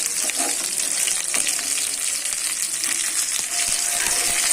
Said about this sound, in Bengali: তো আমি অল্প তেল দিয়ে ভেজে নিচ্ছি।